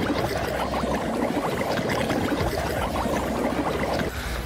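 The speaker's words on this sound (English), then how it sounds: "That sounds like bubbles because it is bubbles" Bubbling boost sound effect from the video game Rocket League, a dense, continuous fizzing and gurgling texture that stays loud and steady for several seconds, with no talk over it.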